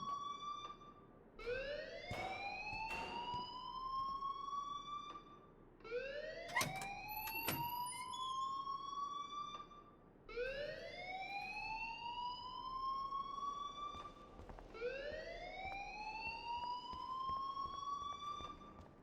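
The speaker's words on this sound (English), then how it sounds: "please turn off that alarm since that's your job" A fire alarm rings in the video game Life Is Strange, repeating rising electronic whoops in a steady cycle, loud and alone with no talk over it.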